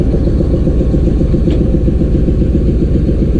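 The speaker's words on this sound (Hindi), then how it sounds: "क्या साउंड है यार कंप्रेसर का" Air compressor on a diesel locomotive of the Jaffar Express, running at a station in Balochistan: a loud, steady, low throbbing chug, close and continuous, with no talk.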